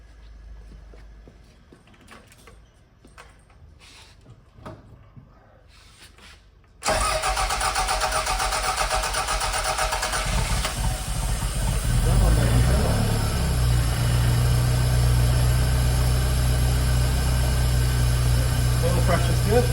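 A Toyota MR2 engine, freshly rebuilt, cranks and catches, then settles into a loud, steady idle close by after some quiet handling noises beforehand.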